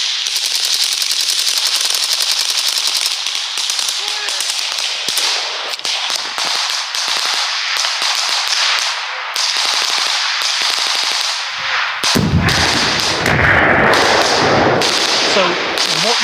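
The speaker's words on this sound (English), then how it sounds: "the front of a gun, and some apparent gunfire" Bursts of rapid gunfire crack out of a played recording of an alleged attack on a chlorine storage tank, sharp repeated shots and rattling volleys at close range, with louder chaotic clatter near the end.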